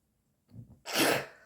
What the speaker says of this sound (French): Je vais encore éternuer.